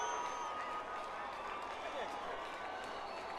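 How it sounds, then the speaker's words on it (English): Crowd noise at the World Cross Country Championships in Kampala, a steady distant roar of spectators cheering a relay runner, under a commentator's voice. "the reason the crowd are getting excited, you may be able to hear them"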